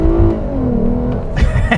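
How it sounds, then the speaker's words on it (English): A 2021 Lexus RC350's naturally aspirated V6 engine revs hard under full throttle, a loud, close, steady droning roar that sweeps gradually in pitch with a brief gear-change dip near the end. "the beauty of a naturally aspirated engine. That means intake noise, exhaust noise, and responsiveness in the throttle."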